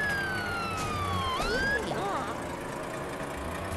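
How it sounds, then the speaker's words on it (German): A police siren in LEGO City My City 2 wails and sweeps down, then up in pitch, loud and close, over a low engine rumble. "Natürlich Sirene an, Blaulicht."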